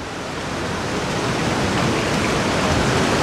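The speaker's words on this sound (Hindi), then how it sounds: "ये देखें ये बिल्कुल हर वक्त यहाँ पे पानी आ रहा होता है, ठंडा पानी" Cold natural spring water flows constantly at a roadside stop between Balakot and Naran, making a steady, close, rushing wash of broadband splashing with no pauses and no voices.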